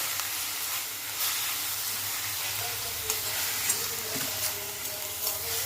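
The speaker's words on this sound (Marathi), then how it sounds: "आता चमच्याने असं खालीवर करून घ्यायचं म्हणजे फोडणीमध्ये चांगलं मिक्स होईल" Spoon stirring leafy ghol (purslane) greens through hot sizzling tempering, a steady close crackle and fry hiss with soft scraping turns throughout.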